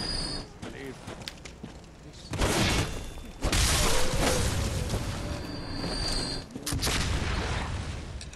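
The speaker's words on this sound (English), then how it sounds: "I saw a cannonball coming at me." Cannon fire aimed at the player in the Bloodborne video game: loud booming blasts and crashing impacts burst out around 2 and 3.5 seconds, followed by sustained heavy rumbling game noise, with no speech.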